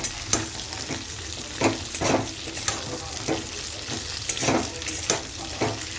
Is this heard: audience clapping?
no